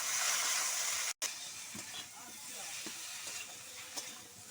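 Spice paste with turmeric and salt frying in a pan with potatoes and drumstick stalks, a loud continuous hissing sizzle with a brief cut and faint stirring taps.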